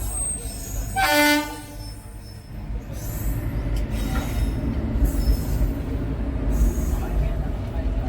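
A train rumbles past a railway crossing in Tamil Nadu, India, with a brief high squeal of wheels near the start, then a steady low clatter of wagons continuing throughout.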